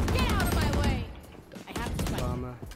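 Rapid, loud gunfire from an AWP sniper rifle in a tactical shooter game, sounding close. A voice also comes through at points among the shots.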